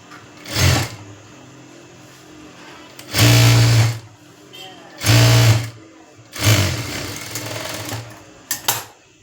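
A sewing machine stitches a collar neck blouse in three or four short, loud bursts of close mechanical whirring. A person speaks in the gaps between the runs.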